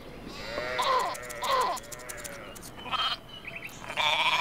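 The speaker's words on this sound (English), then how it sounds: "Shake the nunchuck to sear them, the sheep." Cartoonish sheep bleats from the Rayman Raving Rabbids video game, several wavering calls in a row over a busy game soundscape, moderately loud with short gaps between them.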